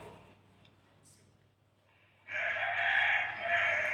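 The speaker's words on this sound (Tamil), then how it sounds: "கோழி சொல்லுது." A chicken or rooster vocalizes nearby in a loud, sustained call that begins abruptly partway through, after a quiet stretch with faint background sounds.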